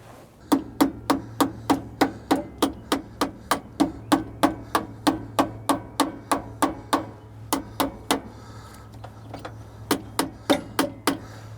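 Sharp, ringing hammer blows strike a metal bracket for a Haldex slack adjuster in a steady, rapid rhythm, dozens of evenly spaced hits with a brief pause before the pounding resumes.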